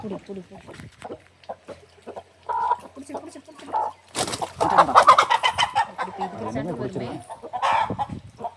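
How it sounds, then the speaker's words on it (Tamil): A rooster that had been tied up outside clucks while being held, giving several short clucks and a louder burst midway, with someone talking over it. "இது பாருங்க வெளியே கட்டி வச்சிருந்த சேவல் வந்து இப்படி இருக்குது."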